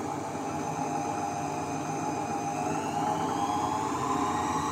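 An electric yarn winder's motor runs at a steady, even whine with a constant hum, unbroken and fairly close, with no talking over it.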